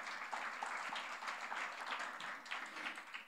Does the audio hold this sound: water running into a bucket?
no